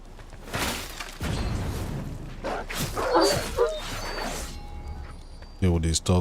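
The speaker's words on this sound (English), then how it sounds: "Deal with these dogs." Dogs barking in the Wuchang: Fallen Feathers video game, several sharp yips and barks amid combat thuds and crashes, with someone talking over the action.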